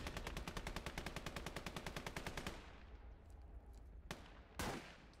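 Rapid machine-gun fire rattles in a fast, even burst during a battle in a Japan conquest war video game, then stops, followed by two sharp single gunshots.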